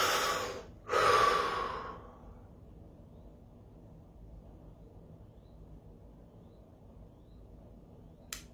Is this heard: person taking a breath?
yes